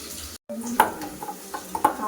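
Food stirred in a pan in a home kitchen, with quiet frying sizzle and a few soft scraping clinks of the spoon against the pan, low and close, without talk.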